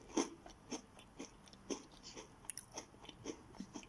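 Chocolate-covered OREO cookies bitten and chewed up close, a series of soft crunching bites repeating at a steady rhythm with no talking.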